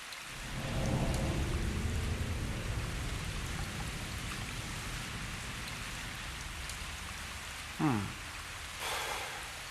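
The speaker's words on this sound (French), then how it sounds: "Maintenant, il pleut." Steady rain falls in a broadband wash throughout, with a brief sharper rumble near the end that may be distant thunder.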